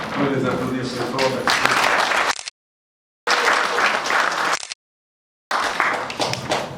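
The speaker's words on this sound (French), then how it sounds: "On peut les applaudir très fort." An audience at a commemoration of Congolese immigration in Belgium applauds loudly, in dense sustained clapping that breaks off abruptly twice and then resumes.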